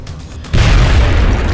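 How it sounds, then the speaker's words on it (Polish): A loud, deep boom from an explosion in XCOM: Enemy Unknown erupts suddenly after a quieter moment and rumbles on heavily to the end. "Jeszcze wybucha."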